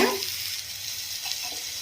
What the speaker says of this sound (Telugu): అది నేనైతే కొంచెం వాటర్ని యాడ్ చేస్తున్నాను